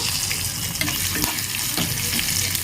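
Curry leaves, dried red chillies and crushed shallots frying in hot oil for a tempering, a dense continuous sizzle with a few soft stirring knocks, close and fairly loud.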